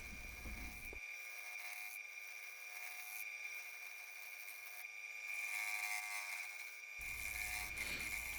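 An unbalanced natural-edge wood piece turning on a lathe, cut with a 5/8 bowl gouge: a steady, high mechanical whine with rough cutting noise that swells and eases, continuous and fairly faint.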